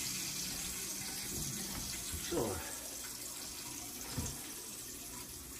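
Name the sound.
tap water running into a cooking pot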